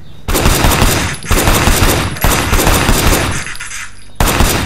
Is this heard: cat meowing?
no